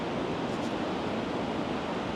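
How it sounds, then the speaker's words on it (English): A fast-running river at Llangollen rushes in a steady, dense roar, close and continuous with no breaks and no voices. "River's running quite fast today"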